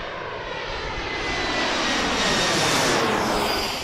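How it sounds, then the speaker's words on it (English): An airplane near Washington's DCA airport at Gravelly Point roars past nearby with loud, broadband jet engine noise that swells steadily to a peak, with no talk. "looks like Southwest is coming out to take off"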